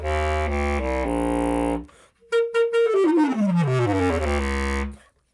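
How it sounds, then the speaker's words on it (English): Bass clarinet playing a few sustained low notes, a short break, then a smooth line sweeping downward through its lower register, full and reedy, played alone and close. "but with me I have a bass clarinet"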